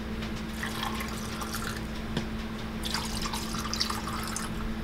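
A Pineapple Collins cocktail poured from a shaker into a glass, a steady close liquid stream and splash with brief gurgling bursts, heard alone without talk.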